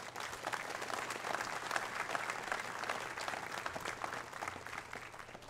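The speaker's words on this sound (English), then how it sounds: "we'll finish with a round of applause for everyone" A commencement crowd at the Army and Navy Academy gives a steady round of applause, dense clapping filling the hall at an even level from start to finish.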